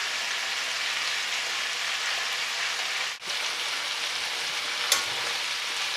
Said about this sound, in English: once you put the strips of steak in, leave them on that side and don't move them for about 3 to 4 minutes, maybe even longer, until it sears really nicely